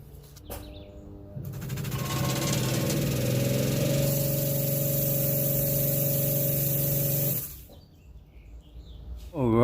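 A small pump motor whirs up with a steady droning whine, then a hissing spray of water from a nozzle joins in for several seconds before both cut off abruptly.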